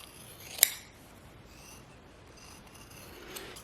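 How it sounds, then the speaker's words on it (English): Scissors trimming the edges of a homemade fabric coaster, with one short, sharp snip close by and a fainter one near the end, in an otherwise quiet room. "So I'm just gonna go ahead and trim those up just a little bit."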